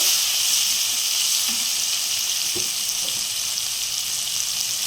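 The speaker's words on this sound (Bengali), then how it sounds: "এবার একটু টমেটোটাকে একটু ভেজে নেব।" Tomato frying in a pan with salt and turmeric for a tangra fish curry makes a loud, continuous close sizzle with a few faint stirring taps, and no one speaks.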